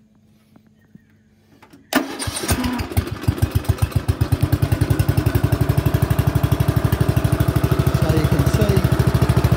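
A Greenfield Fastcut 32-inch ride-on mower engine starts after a few quiet clicks, then runs with a loud, steady, rapid putter close by; a brief voice comes in early.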